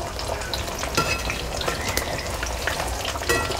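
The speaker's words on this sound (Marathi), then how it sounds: "तर आपल्या एवढं घालून छान असं हे तळून घेऊया तेलामध्ये." Chicken leg pieces fry in hot oil with a steady, close sizzle and crackle, broken by a few louder spits and stirring knocks, with no talking.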